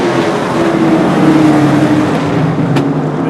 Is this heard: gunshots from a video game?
no